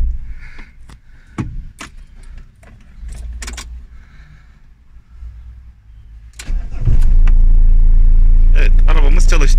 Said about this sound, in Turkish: Bakın şıkır şıkır şıkır kuş ötme sesi gibi bir ses var arabada.